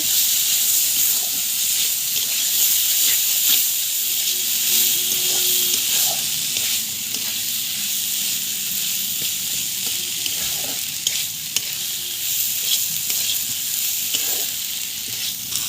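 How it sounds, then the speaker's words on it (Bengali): Soaked red lentils frying with spices in a pan, giving a continuous close sizzle with light stirring scrapes throughout, no talk. "মশলার সাথে ভালো করে কষিয়ে নেব"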